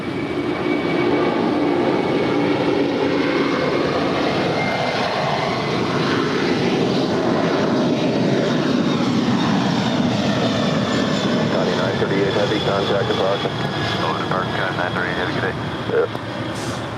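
A Kalitta Air Boeing 747-400 freighter takes off from runway 25 right at LAX, a steady, loud broadband jet roar that holds for the whole stretch, with voices talking faintly beneath it.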